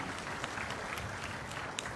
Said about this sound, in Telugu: గట్టిగా చప్పట్లు కూడా అభినందించండి